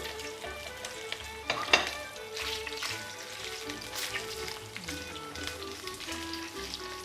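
Pork trotters fry in a pan, seasoned with salt and pepper during cooking: a busy, crackling sizzle up close with small pops and one sharper spatter partway through.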